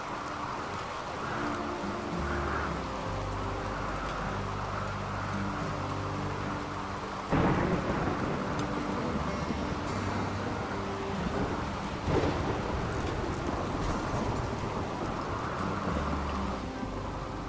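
A thunderstorm in RimWorld pours steady heavy rain, with a couple of sudden thunder cracks and low rumbles rising out of the continuous hiss.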